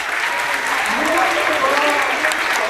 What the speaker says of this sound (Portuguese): Vamos bater palmas para eles?